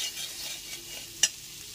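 Spice powder is stirred and fried in a pan over a low-to-medium gas flame, a soft steady sizzle with faint spoon scrapes and one sharp clink of metal partway through.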